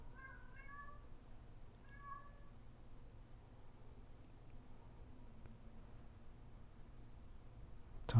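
A pet cat lets out a few quiet meows early on, faint against a low hum, followed by near silence.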